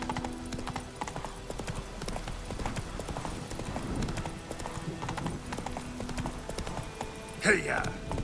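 Horse hooves in The Witcher 3 clip-clop in a steady galloping rhythm throughout, with spoken dialogue over the hoofbeats and a brief sharper burst near the end.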